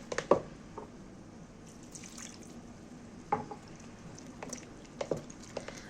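Water is poured in small splashes and drips into dough for luqmat al-qadi, with soft intermittent pouring and splatting sounds and faint mixing clatter.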